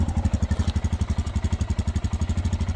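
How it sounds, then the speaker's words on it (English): A 2023 Royal Enfield Himalayan single-cylinder motorcycle engine idles with a steady, even putt-putt pulse, close and clear, with no voices present. "Stays at a nice happy idle, no issues to report there."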